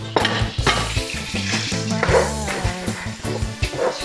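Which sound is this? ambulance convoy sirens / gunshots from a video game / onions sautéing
onions sautéing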